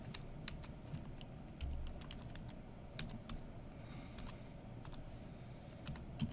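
Quiet, rapid clicking of fingers typing on a computer keyboard, irregular bursts of keystrokes close by with a faint room hum beneath.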